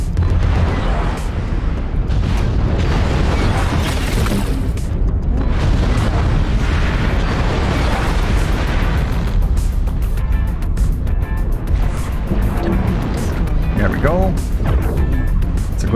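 A Warhammer mech blowing up in MechWarrior Online amid battle: a dense, loud, continuous wash of booming explosions, weapon fire and rumbling mech noise, with game sounds layered throughout.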